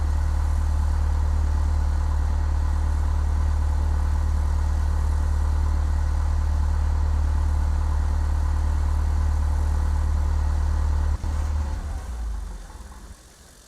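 The Cessna 172 Skyhawk SP engine in Microsoft Flight Simulator X drones at a steady low idle, then cuts off near the end and winds down to quiet, with no talking.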